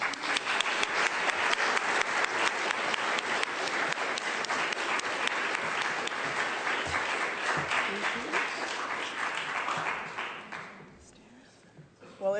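Sustained audience applause filling a lecture hall as Nobel laureate Carol Greider is welcomed to Berkeley, dense steady clapping from a large crowd that tapers off near the end.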